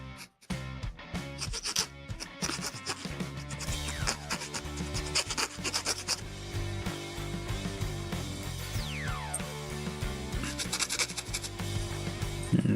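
Rasping and rubbing as a small file works a leftover sprue nub off the curved edge of a 1/144 HG Gundam FSD plastic kit part, steady close-up scraping strokes throughout with music playing underneath.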